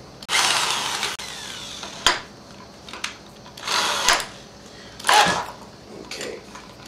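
Cordless power drill used to spin and start a string trimmer engine, in three or four separate whirring bursts of about a second each, with small clicks and clunks between them.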